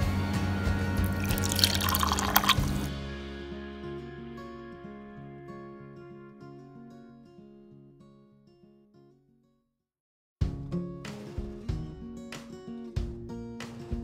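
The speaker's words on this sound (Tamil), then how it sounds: "இப்போ நம்ம இதை வெறும் தண்ணி மட்டும் அப்படியே இதில் ஊற்றலாம்." Warm water is poured into a tumbler for a brief splashing fill, then the vessel rings with a long fading metallic tone. After a pause come a few sharp clinks and drips, with no talking.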